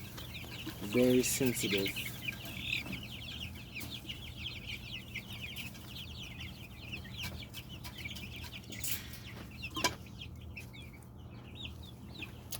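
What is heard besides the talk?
turkey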